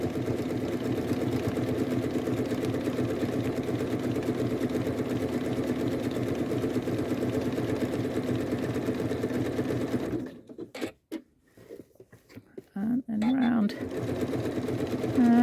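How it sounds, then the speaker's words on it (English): A Janome sewing machine stitches down the side of a felt piece with a steady, close mechanical whir for about ten seconds, then stops, leaving brief handling noises and a little sound from the person sewing. "so I'm just going to stitch down the side"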